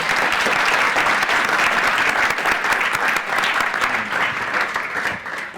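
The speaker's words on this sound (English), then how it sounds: "we will give you a round of applause" A conference audience gives a sustained round of applause, dense and even from start to finish, tapering slightly at the end with no talking over it.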